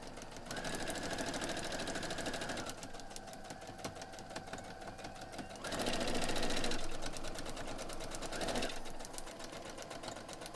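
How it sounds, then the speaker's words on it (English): A sewing machine stitches foundation paper-pieced quilt pieces for a pine tree block, running in a steady rapid mechanical whir close by, with brief surges in speed and short pauses between runs. "let's sew these."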